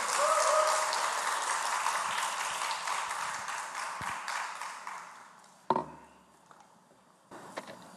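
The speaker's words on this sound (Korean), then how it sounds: "다시 뜨거운 박수로 모시도록 하겠습니다" A church audience at a Bible study gives warm applause that tapers off over several seconds, followed by a few sharp taps and quiet room sounds.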